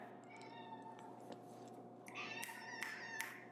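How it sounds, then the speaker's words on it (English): A cat cries with a series of faint, drawn-out meows, growing louder and more frequent toward the end, over a steady low indoor hum. "My cat's crying."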